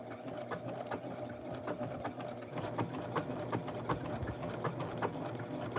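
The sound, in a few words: sewing machine stitching a doll blouse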